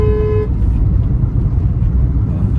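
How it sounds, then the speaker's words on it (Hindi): A car horn blares briefly at the start, then busy traffic rumbles on with passing vehicles and faint background noise. "हॉर्न पे हॉर्न हॉर्न पे हॉर्न बजाते रहते हैं"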